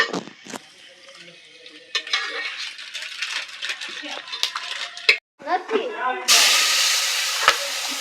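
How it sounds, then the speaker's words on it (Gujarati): Cashews fry in hot oil for a cashew curry: utensils clink and clatter at first, then a loud, steady sizzling hiss rises and holds, with people talking nearby. "તો અત્યારે કાજુ તળાય છે"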